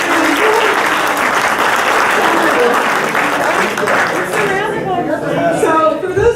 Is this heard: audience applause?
yes